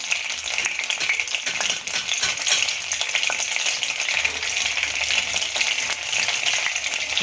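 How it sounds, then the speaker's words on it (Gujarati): Cumin seeds sizzle and crackle in hot oil and butter, a steady close frying hiss with small popping bursts. "સારી રીતે જીરું આપણે તતડે ત્યારબાદ આપણે આમાં બીજા મસાલા એડ કરીશું"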